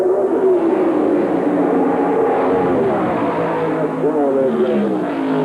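1994 NASCAR Winston Cup stock car at Indianapolis roars down the main straightaway during Brickyard 400 qualifying, a loud sustained engine drone shifting pitch as it passes, under an announcer's voice.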